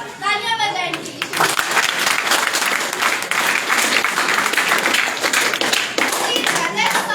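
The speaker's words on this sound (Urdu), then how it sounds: "تالیاں بجائیں ان کے لیے." An audience at a large office event applauds steadily, dense clapping that swells after a brief opening and carries on loud and unbroken for several seconds.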